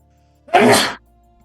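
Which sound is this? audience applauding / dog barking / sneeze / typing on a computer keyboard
sneeze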